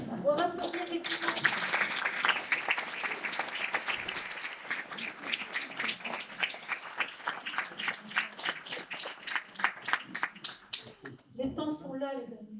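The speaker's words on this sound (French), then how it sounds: "On va applaudir effectivement" An audience at a healing assembly breaks into applause, a long run of clapping that grows more distinct and rhythmic before fading, followed by someone speaking.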